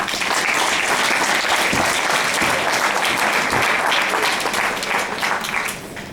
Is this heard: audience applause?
yes